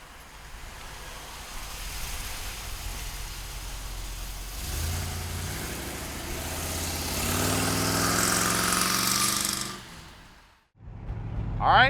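1971 Chevrolet Corvette with an LT1 V8 and four-speed transmission, its engine rumbling steadily, then rising in pitch as it revs and accelerates before a brief drop. A voice comes in at the end.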